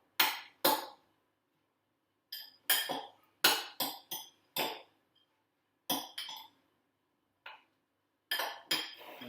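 Metal utensils clinking and knocking against a bowl while tossing spinach into a spring salad, sharp separate clacks arriving in irregular bursts with short silences between them, close and fairly loud.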